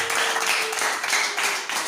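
A church congregation claps together during a worship service, a dense, steady applause lasting a couple of seconds with some pulsing bursts, loud and close.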